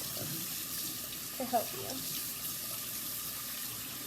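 A tap runs steadily at a kitchen sink while fresh mint leaves are washed under it, giving a continuous splashing hiss with a brief louder splash partway through and a short murmur of speech.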